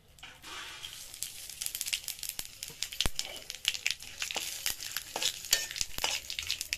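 Dried red chillies and whole cumin fry in hot oil with bay leaf, a close, busy sizzle crowded with rapid crackles and spitting pops that grows denser and louder as it goes on.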